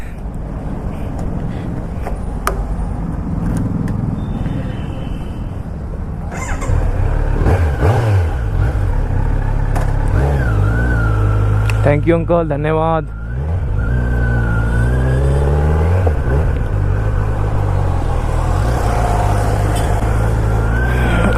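Kawasaki motorcycle pulling away from a fuel station after refueling, engine revving and accelerating loudly with gear changes, while people speak briefly over it.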